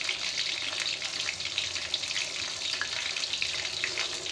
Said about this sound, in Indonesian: Tidak boleh terlalu lama goreng ikan ini, karena kalau digoreng terlalu lama dia akan keras.